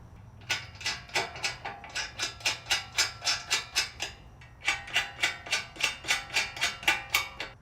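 A nut is hand tightened onto a side step bracket on a Sprinter van, giving two runs of quick, evenly spaced ratcheting clicks, close and crisp, with a short pause between them.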